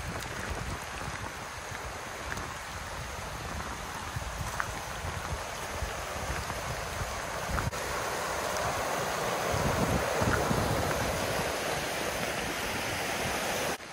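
A waterfall in Cloudland Canyon State Park, Georgia, rushes in a continuous broadband roar, steady and close, growing slightly louder partway through with no voices.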